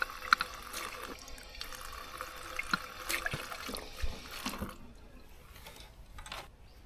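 Tap water splashing and trickling from an Arisu public drinking fountain on a Seoul Grand Park trail, a quiet, close outdoor stream of water with small splashes that fades near the end.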